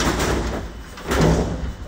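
Very large floating hurricane shutter door being shifted and closed, giving a couple of heavy thuds and scraping bumps up close while someone talks over them.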